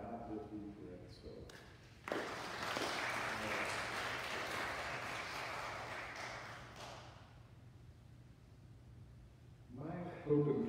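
A church congregation breaks into applause during a Sunday worship service. The clapping rises suddenly after a brief spoken line, holds at a moderate, somewhat distant level for several seconds, and fades as speech resumes.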